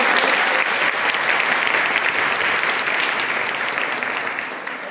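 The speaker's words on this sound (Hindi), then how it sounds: "अभी ताली बजा रहे थे बच्ची, ताली बजाओ जरा के" Schoolchildren at a girls' inter college in Khatauli clap together in a loud, thick burst of applause that stays steady and then tapers slightly at the end.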